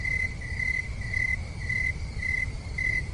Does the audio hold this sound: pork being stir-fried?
no